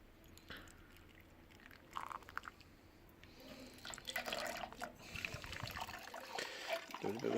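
Water trickles and splashes as it is poured into a home-brewing vessel on brew day, quiet irregular pouring with drips and sloshing that builds louder toward the end.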